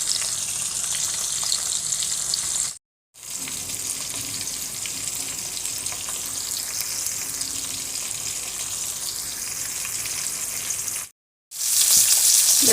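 Fish sizzles steadily in hot oil in a pan, a loud continuous frying hiss that cuts out briefly twice, with no voices.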